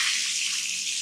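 Steady broadband rush of water running from a bath shower mixer tap during a tap replacement, continuous and fairly loud throughout with no talking.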